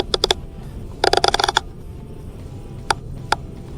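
Rifle scope elevation turret dialed up two mils: quick bursts of crisp, close mechanical clicks, a rapid cluster followed by two lone clicks, with no talking.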